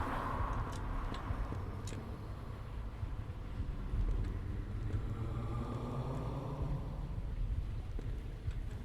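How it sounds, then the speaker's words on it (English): Cars driving past inside a horror exploration video game, heard near the up route out of an underground garage: a steady, continuous low engine rumble with a faint whooshing wash, running unbroken throughout with no talking. "If I approach the up route out of the garage, you'll hear cars."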